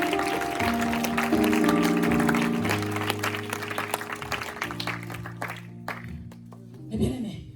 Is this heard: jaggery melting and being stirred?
no